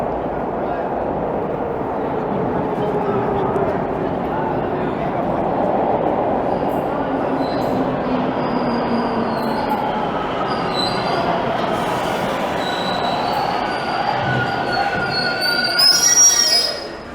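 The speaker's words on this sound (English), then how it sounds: "Looks like the train might be approaching in a second here" A subway train rumbles and approaches in a Toronto station, with metallic wheel squeals rising toward the end over a busy background murmur of a big crowd.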